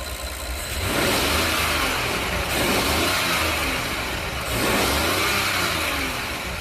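A Rolls-Royce 6.75 litre twin-turbo V12 idles and then is revved twice, each rev a smooth, loud swell that fades back, close up with no talk.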